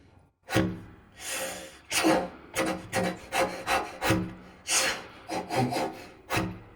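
A rapid series of breathy, percussive puffs and hissing consonant bursts from a contrabass flute with closed tube, played inhaling and exhaling, about a dozen in quick uneven rhythm, close and fairly loud with no talking.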